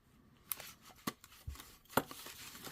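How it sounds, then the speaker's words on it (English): Slightly glued greeting card pieces are cut apart close up, giving several sharp, irregular snips and crisp cutting clicks separated by short quiet gaps. "just cut these two pieces of card away where they're slightly glued together"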